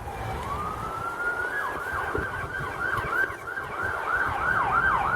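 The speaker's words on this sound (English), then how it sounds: "Sirens, sirens, everywhere you gone." A wailing siren rises and then sweeps up and down repeatedly, moderately far off, over steady road traffic noise.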